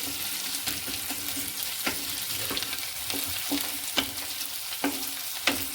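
Thecha, a crushed chili paste, sautés in a pan for prawn chutney. A continuous close hiss of frying is punctuated by regular sharp ticks and scrapes from stirring. No talk.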